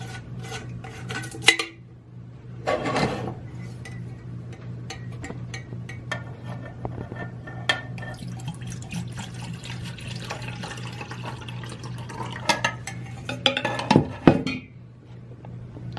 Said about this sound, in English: Let's pour some water for a nice drink.